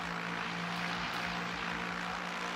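Race car engine noise from the Le Mans Ultimate sim during a six-hour endurance event at COTA, a loud steady drone with a sustained pitched tone that holds without a break.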